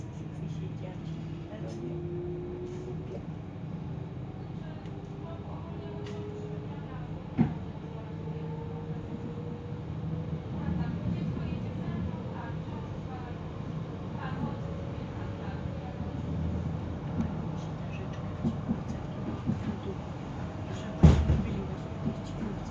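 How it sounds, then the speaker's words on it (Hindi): Steady low rumble of a train riding from Krakow Plaszow towards Rzezawa, Poland, heard from inside with faint rattles and a few knocks, while someone talks throughout. "इस ट्रेन की सवारी के साथ इस ट्रेन की आवाज़ सुन सकें"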